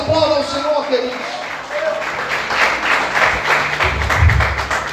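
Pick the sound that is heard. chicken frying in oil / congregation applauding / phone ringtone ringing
congregation applauding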